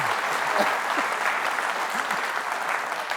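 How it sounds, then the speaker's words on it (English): A studio audience at a live TV show's season finale claps in steady, sustained applause, filling the room throughout. "Give yourself a clap."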